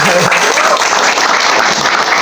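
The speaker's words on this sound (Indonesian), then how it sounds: "Tepuk tangannya." Dense audience applause at an anniversary celebration in Kotaagung, steady and fairly loud throughout, with some murmuring voices mixed into the clapping.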